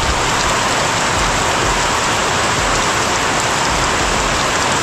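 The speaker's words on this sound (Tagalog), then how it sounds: "Taas ng ulan." Heavy rain pours steadily on a home under construction, a dense, loud, continuous hiss with no breaks and no voices.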